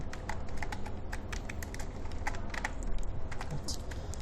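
Rapid, steady typing on a computer keyboard, close-up key clicks in an uneven flurry at a low level, with no talking.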